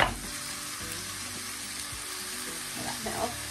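Beef mince sizzles in a hot pan while lasagne is cooked in a single pot, a steady close hiss with some stirring and scraping knocks underneath.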